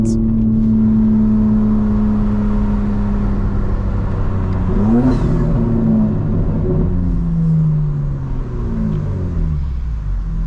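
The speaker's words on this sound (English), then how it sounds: "It feels so good to rev the car out, guys. It sounds insane." A 2025 BMW M4 Competition engine revs hard from inside the cabin, its loud, steady drone rising through the gears with a quick upward sweep midway before settling into a sustained high roar.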